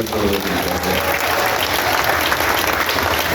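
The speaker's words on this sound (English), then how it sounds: "How about a round of applause, please?" Sustained audience applause at the close of a vloggers' farewell Q&A session, a dense, steady wash of many hands clapping throughout, fairly loud and even with no pauses.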